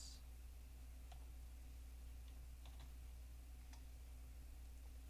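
Scattered soft keystrokes on a computer keyboard as a command is typed into a RunUO game server, faint clicks spaced irregularly over a steady low electrical hum, with no talking.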